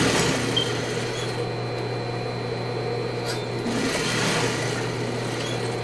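A sewing machine running steadily as it stitches over the waistband seam of fine dress trousers, with a constant close motor hum and whir throughout.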